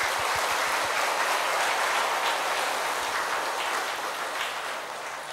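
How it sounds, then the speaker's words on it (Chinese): Audience applause at a Buddhist dharma lecture in a temple hall, thanking volunteers: steady, dense clapping from a crowd that holds throughout and tapers slightly toward the end, with no voices over it. "所以掌声谢谢他们吧。"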